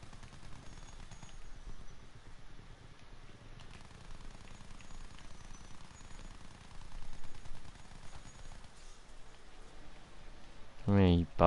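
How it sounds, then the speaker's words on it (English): Rapid video game gunfire aimed at the player's own team, a dense crackling stream of shots that keeps going the whole time, with a voice cutting in briefly at the end. "Shooting at my own team there."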